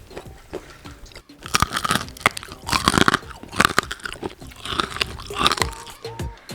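Loud, close crunching as crispy Korean fried chicken is bitten and chewed, a steady run of brittle crackles with no talking.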